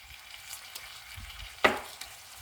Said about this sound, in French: Et je vais laisser cuire tout ça jusqu'à que les tomates cuisent.